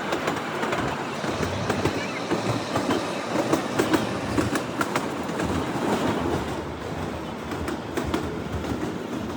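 Shivalik Express toy train on the narrow-gauge Kalka–Shimla line, rolling along with a steady rumble and rhythmic wheel clatter, close by, with some faint talk mixed in.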